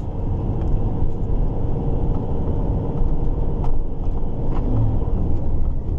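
Truck engine labouring up a hill, a loud steady low rumble with a constant drone and faint rattles, heard from inside the cab with no talk.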